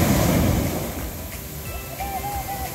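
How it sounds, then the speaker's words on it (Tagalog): Strong ocean waves crash along Tagas Boulevard in San Jose: a loud rushing surge at the start eases into a steady wash, with faint whistle-like tones drifting above it. "Malalakas ang hampas ng alon."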